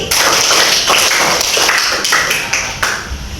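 A class of students claps in a counting game, a run of uneven group claps with scattered stragglers, close and fairly loud over faint room chatter.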